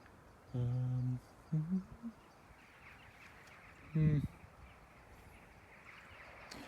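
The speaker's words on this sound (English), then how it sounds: "Those birds are very loud." A few loud, harsh bird calls, honking or quacking in short bursts against a quiet background.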